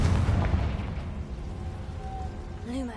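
A Confringo fire spell explodes in Hogwarts Legacy. A deep rumbling blast opens loudly and slowly fades, and a short voice is heard near the end.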